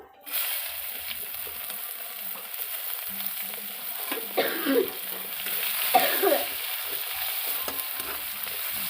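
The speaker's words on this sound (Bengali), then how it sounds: "পেঁয়াজটা একটু ভালো করে ভাজা হলো" Chopped onion sizzles in hot oil with cumin seeds, a steady close fry with brief stirring scrapes and a soft cough in the background.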